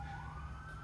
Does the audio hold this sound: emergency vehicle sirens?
yes